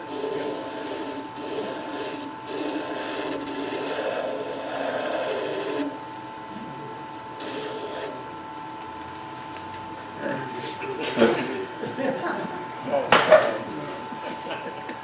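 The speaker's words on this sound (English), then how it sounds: "Then the rest is hand sanding." Repeated rough scratching strokes of sandpaper rubbing against wood, steady and close, with pauses and a few louder scuffs near the end.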